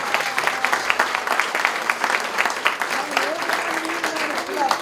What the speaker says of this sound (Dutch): En ik denk dat het op zijn plek is om daar ook even een applaus voor te maken.